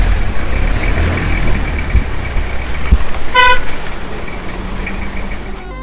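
A jeep driving on a bumpy mountain road in Swat Kalam, Pakistan, its engine and road rumble steady and loud, with a short horn toot midway.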